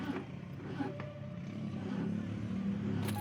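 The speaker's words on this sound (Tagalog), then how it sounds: "So itatry kong i-crank or i-start." A car engine cranks on a weak, aging Yokohama battery down to about 9.9 volts, a steady low labored churning that holds at close range for the whole stretch with no catch or start.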